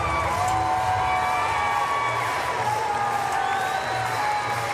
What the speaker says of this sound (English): milking in the applause, soaking it in